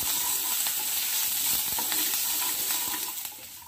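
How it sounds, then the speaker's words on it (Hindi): Peanuts, dry fruits and ginger roasting in a pan give a steady, close sizzle with light stirring scrapes, continuous and fairly loud, easing off slightly at the end. "मूंगफली, ड्राई फ्रूट्स और अदरक सब हमारे भुन गए हैं अच्छे से"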